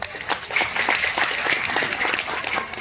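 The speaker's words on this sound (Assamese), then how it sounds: "এজানি ভাল হাত চাপৰি বজাব লাগে" Audience applause fills a hall after an appeal to honour departed souls at a memorial book launch, a dense, steady clapping that holds loud from start to finish with no voices on top.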